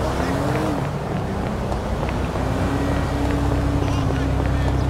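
A car engine runs steadily inside Grand Theft Auto, a continuous droning hum with wind noise over it, while players keep chatting throughout.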